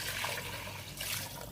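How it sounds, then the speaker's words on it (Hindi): Water poured into a cooking pot of rice with chicken stock, a steady close splashing rush that holds evenly through the whole short stretch, with no voices. "अब मैं इसके अंदर पानी शामिल कर दूंगी"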